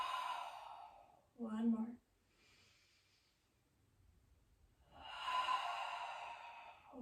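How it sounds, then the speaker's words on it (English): Slow, deep breaths are audible close up, including long airy exhales and one sharper inhale, with quiet pauses between them and a brief spoken voice. "And exhale, let it out."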